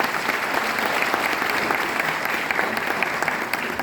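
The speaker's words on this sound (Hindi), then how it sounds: "एक बार आप सभी लोगों के लिए, इस जज्बे के लिए जोरदार तालियां बजाएं" An audience in a hall at a Vestige network-marketing career seminar claps loudly and steadily, a dense, sustained wash of many hands that fills the room without any pause.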